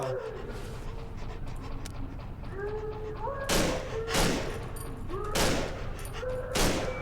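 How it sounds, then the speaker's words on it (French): A dog in the horror video game Cry of Fear gives short rising whines and snarls, then four loud, heavy thuds land about a second apart over a steady rumbling background. "Il y a un clébard."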